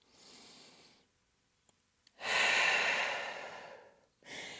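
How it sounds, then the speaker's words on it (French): Deep, slow breaths during a yoga session on an abdominal-core posture: a soft exhale, a pause, then a long, louder full inhale-exhale and the start of another breath, close and alone. "Et encore une grande respiration ici."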